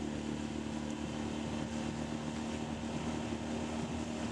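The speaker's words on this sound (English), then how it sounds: "You can see how quiet this engine is." A Yamaha 25 hp four-stroke outboard engine drives a boat at planing speed with three people aboard, giving a steady, continuous motor drone with a low hum, close and moderately loud, with no talking.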